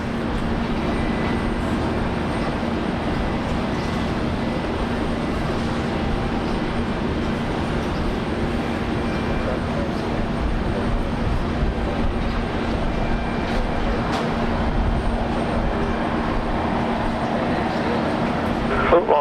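A Boeing 717 airliner at Brisbane Airport gives off a steady, broad jet roar that holds at an even level for the whole stretch, with no clear rise or fall.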